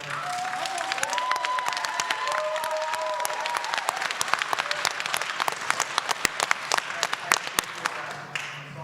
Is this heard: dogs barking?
no